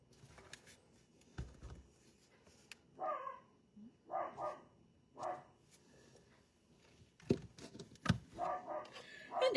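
A guard dog barks in short, separate bursts spread through the clip, moderately loud indoors with quiet gaps between the barks.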